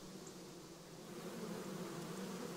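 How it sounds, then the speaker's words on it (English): Bees buzz in the video game Kingdom Come Deliverance, a steady, soft insect drone holding evenly throughout at low volume with no talk over it. "Oh, we got bees."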